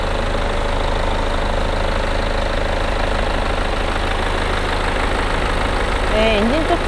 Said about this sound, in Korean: 엔진 소리도 일정하고 좋습니다.